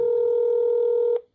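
A single steady telephone keypad tone rings loud and clear for just over a second, then cuts off abruptly.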